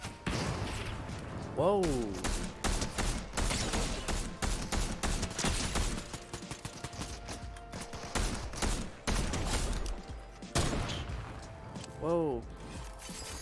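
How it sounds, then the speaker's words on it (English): Rapid gunfire from an online battle-pass shooter game, dense bursts of shots crackling for many seconds, loud and close, with brief pauses and a person reacting over it. "Someone's shooting me."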